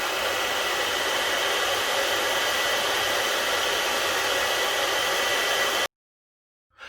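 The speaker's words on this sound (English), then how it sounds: "that didn't take me too long to dry the pellets with the air dryer" A hair dryer blows steadily on .22 air rifle pellets, a loud, even whooshing roar that runs for several seconds and then cuts off abruptly into silence.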